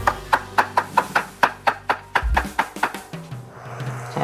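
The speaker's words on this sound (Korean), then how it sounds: "홍고추도 같은 크기로 썰어주시고요" A knife chops red chili pepper rapidly on a cutting board, about a dozen crisp, evenly spaced strikes close by, then slowing and trailing into softer scraping.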